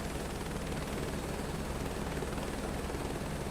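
Aircraft engine noise in Microsoft Flight Simulator 2024 during a landing on runway 14, a steady broadband roar with rotor-like texture that holds constant throughout, without any voices.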